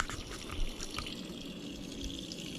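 Cold tap water runs steadily into a sink for cleaning Civil War bullets, a continuous moderate splashing rush with no voices.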